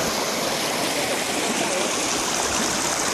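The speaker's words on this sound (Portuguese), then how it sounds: "Eu vou mostrar pra vocês a corredeira aqui no embate." River rapids rush in a steady, loud wash of flowing water at a fishing spot in Pouso Alegre, Minas Gerais, with a constant dense roar and no pauses.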